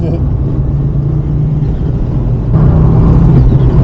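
An Audi RS2 Avant's engine drones loudly and steadily while driven on a track, its note stepping up in pitch and volume partway through as it pulls through the gears.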